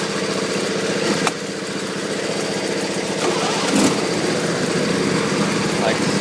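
A John Deere LA120 riding lawn mower, which only runs with the choke cap on, idles nearby with a steady, rapid, buzzy engine chug that holds an even rhythm throughout.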